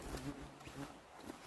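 Bees buzz close by in a forest, a faint wavering drone with individual insects swelling and passing near, quiet and unbroken by speech.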